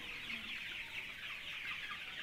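A flock of free-range chickens about thirty days old clucks and chirps continuously inside a coop, a dense, faint, steady chatter of many birds with no one talking.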